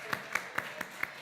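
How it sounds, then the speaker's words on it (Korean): Congregation clapping during a Christmas service in a Korean church, heard as five evenly spaced sharp claps or bursts, moderately near and fairly quiet, with no talk over them. "박수해 주시기 바랍니다."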